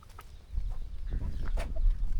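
Chickens cluck faintly amid a low rumbling farmyard background on a Bangladeshi river char, with a few scattered sharper calls.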